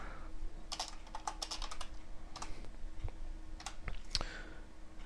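Quick bursts of keystrokes on a computer keyboard while copying and pasting C++ code, clustered clicks with short pauses, close and clear with no talking.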